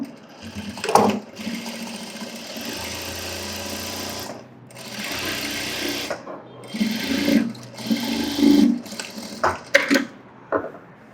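A sewing machine stitches a blouse strip in runs of steady whirring, pausing and restarting several times, with clicks and handling sounds between bursts; close and fairly loud, no talk.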